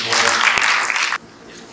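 Audience clapping for a pitch competition jury, a dense burst of applause lasting just over a second before cutting off abruptly to quiet room tone.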